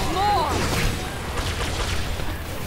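Explosions in the tower-defense game Orcs Must Die 2 go off as a loud boom up front, then fade into a rumbling, crackling tail with scattered smaller blasts.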